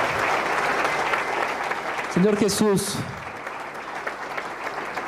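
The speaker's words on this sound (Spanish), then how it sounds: "¿Qué no le damos un aplauso a nuestro Dios?" A church congregation applauds during a Spanish-language worship service, with sustained clapping throughout and a voice speaking briefly over it in the middle.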